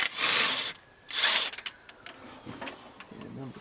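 Bolts are loosened on a crushed, seized Dodge Charger in two short bursts of whirring, ratcheting tool noise, followed by softer scattered clicks and clanks close by.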